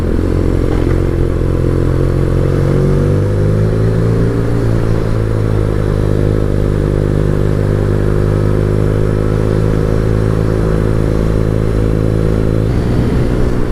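A BMW Urban G/S motorcycle engine drones steadily while riding, a loud continuous rumble with shifting pitch as it accelerates, plus some clatter, with no talking throughout.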